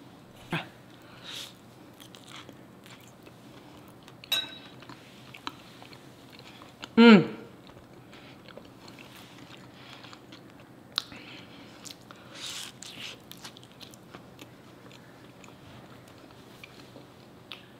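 Homemade pierogis boiled and sautéed in butter and onion are bitten and chewed up close, with soft squishy chewing, a few sharper bites and an occasional clink, between stretches of someone talking.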